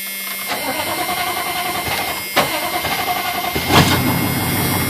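A diesel engine with no glow plugs or exhaust cranks, catches and rumbles into a rough idle, with a couple of sharp bursts as it revs, loud and close.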